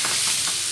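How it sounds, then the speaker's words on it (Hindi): Chicken fries in a pan with onion and garlic, giving a steady, close, loud sizzle and hiss with no pauses. "अब मैं इसमें ये सारी चिकन डाल दूँगी। इस चिकन को भी अच्छे से इसी के अंदर फ्राई करना है।"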